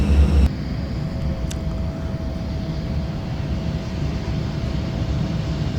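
Airbus airliner taxiing away from the gate at an airport on a sunny day: a steady, broad jet-engine rumble with a faint whine, continuous and moderately close after a brief louder start.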